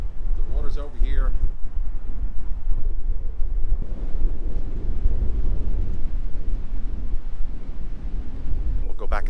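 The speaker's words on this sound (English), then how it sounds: "It's just too windy out here." Strong wind buffets the microphone outdoors in a loud, continuous rumble, with brief voices at the start and end.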